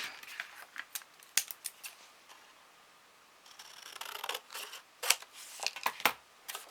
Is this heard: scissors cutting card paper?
yes